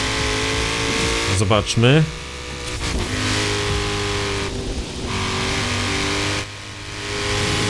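A Koenigsegg CCGT in Forza Horizon 4, 1100 kg and 1500 hp, revs hard with a loud sustained engine roar, rising pitch sweeps as it climbs through gears, and brief dips between shifts, while someone speaks briefly over it.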